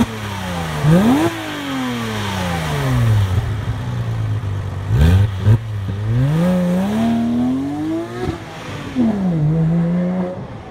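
A 2008 Porsche 997 GT3 engine revs hard and loud, climbing and falling through repeated sweeping pitch rises, with brief drops between throttle blips and a sustained high wail near the end.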